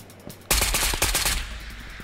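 A loud, close burst of rapid automatic gunfire in Ghosts of Tabor, a string of quick shots lasting under a second before tapering into a faint tail.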